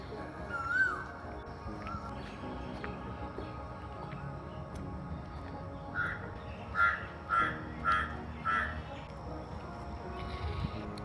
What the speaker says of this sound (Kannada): ಇಲ್ಲಿ ಕೇಳೋದು ಮಾತ್ರ ಪಕ್ಷಿಗಳ ಚಿಲಿಪಿಲಿ ನಾದ